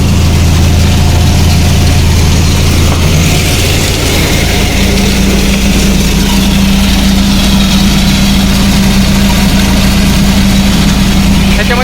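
A stone crusher machine grinding rock into gravel roars continuously and very loudly up close, a heavy engine drone with a steady low hum and dense grinding rumble.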